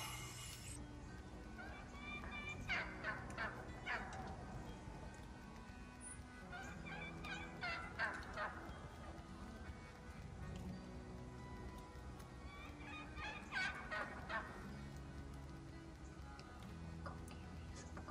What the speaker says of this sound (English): That's 24 turkeys right there.